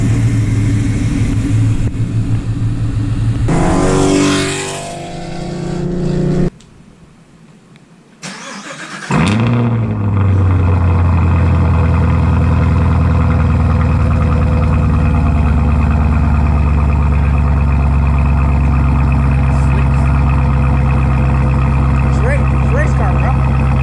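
A 2020 mid-engine C8 Corvette belonging to Rob starts up with a sharp engine burst, then settles into a loud, steady, deep idle rumble close by after a brief quiet gap.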